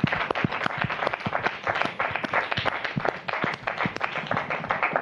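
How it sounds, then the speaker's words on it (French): Studio audience applause during a 1998 Réunion TV broadcast on graffiti, dense steady clapping from many hands sustained throughout at moderate loudness, with no talk. "On peut les applaudir."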